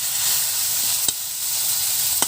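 Fresh green moringa (drumstick) leaves sizzle loudly in a pan in a village kitchen, with a steady hiss and a couple of sharp pops or utensil taps. No voices are present.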